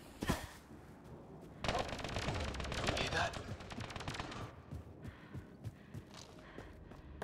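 Gunfire in the video game Mass Effect Andromeda: a sharp shot, then a sustained burst of rapid automatic fire lasting a few seconds, followed by scattered softer impacts and steps, with voices heard amid the action.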